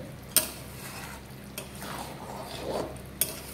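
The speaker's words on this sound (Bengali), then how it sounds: "এবার নাড়াচাড়া করে গরম মশলাটা যেটা বেটে রেখেছিলাম সেটা মিশিয়ে দিচ্ছি।" A spoon stirs ground garam masala through fish-head muri ghonto in a pot, soft low sizzling with a few sharp metallic clinks against the pan, fairly quiet overall.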